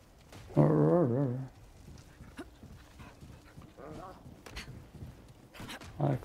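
In the Remnant 2 video game, a dog gives a short, strong bark-like yelp near the start, then fainter whimpers and yips follow amid game noise and someone talking.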